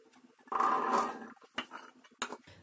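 Grapes tumble into a cooking pot for grape jam, a brief clattering rush followed by a few scattered knocks and taps, close and fairly quiet.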